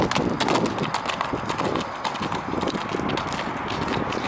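A young horse shod on all four feet walks with steady, crisp clip-clop hoofbeats close by, the rhythmic strikes continuing evenly throughout.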